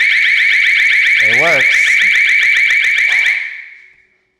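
A Konnected Alarm Panel Pro's piercing electronic siren, triggered manually through SmartThings, wails in rapid repeating pulses, with a brief voice underneath, then cuts off and fades away.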